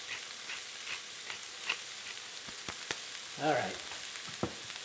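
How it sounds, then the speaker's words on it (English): Vegetables sautéing in a pan for a southwest chicken soup give a steady low sizzle with small crackles and one brief louder burst of frying near the end; a voice speaks briefly over it. "I'm going to saute this down until it's just soft, just cooked."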